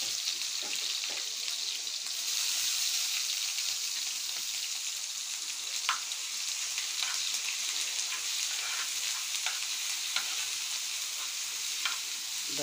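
Ginger garlic paste frying in hot oil in a pan for a fish curry, giving a steady, dense hiss and crackle with scattered sharper pops and occasional stirring, close and continuous throughout.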